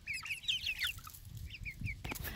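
A hen clucks at close range in a run of quick, chattering calls while being fed, followed by a brief scuffle of movement at the end.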